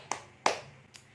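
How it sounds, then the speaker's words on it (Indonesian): A few scattered hand claps ring out as applause for group 2 at a community meeting of mothers, three short, sharp claps spread across about a second, fairly quiet and thin. "Tepuk tangan untuk kelompok 2."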